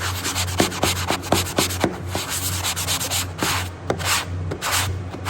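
Drywall corner worked over with a power sander, giving a steady run of rhythmic rasping strokes over a low motor hum, close and fairly loud, with no talking.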